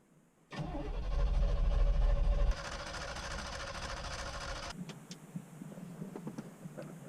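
A 1986 Chevy K20 truck engine cranks loudly for about two seconds, then settles into a rough, steady running note for a few seconds before cutting out, leaving faint clicks and rattles.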